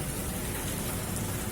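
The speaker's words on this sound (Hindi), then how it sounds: "देखो कितनी जोर की बारिश हो रही है" Heavy monsoon-style downpour drumming steadily on surfaces outdoors, a dense, unbroken roar of rain with no pauses or voices.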